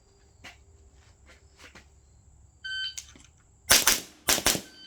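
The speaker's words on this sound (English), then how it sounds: "But I got 4 shots off in the 2 seconds" Pistol shots fired during a shooting range drill: faint clicks, then four loud, close, sharp cracks in two quick pairs, with no talk.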